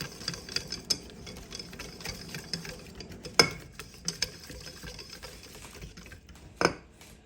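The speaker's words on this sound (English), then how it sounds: "we're just going to whisk, whisk, whisk." Whisk clicking and scraping briskly in a bowl while mixing a sauce seasoned with cayenne pepper, a steady run of light metallic ticks with a few sharper knocks, no talking.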